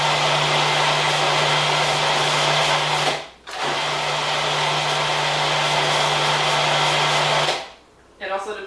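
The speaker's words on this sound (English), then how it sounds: "It also depends on how high-powered your food processor is." A food processor blends a raw brownie mixture in two loud, steady whirring runs, each stopping abruptly, with a short quiet gap between them.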